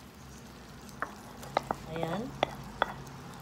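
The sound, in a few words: garlic frying in canola oil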